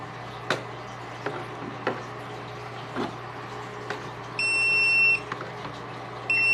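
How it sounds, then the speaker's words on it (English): An electronic egg incubator gives a high steady beeping alarm in two long tones near the end, after several soft thumps and clicks as the unit is opened against a low constant hum. "Now it may beep an alarm when I open it because the temperature and humidity will drop."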